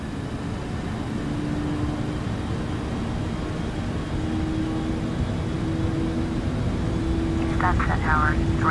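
A Boeing 737-800 in Flight Simulator X throttles up for takeoff on the runway, with a steady broad engine roar and a faint tonal whine that hold at an even level throughout, and a brief voice near the end.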